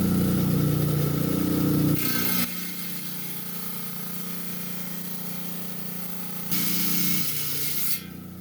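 A rock saw cuts and skims a slab of rock with a loud, continuous grinding whine. The pitch and intensity shift as the blade bites harder near the start and again toward the end.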